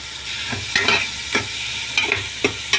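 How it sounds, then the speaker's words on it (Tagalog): Onion sautéing in a hot pan while cooking La Paz batchoy, a steady sizzle with periodic stirring scrapes and clinks, close and alone. "Yan, nilagay na rin natin ang ating sibuyas."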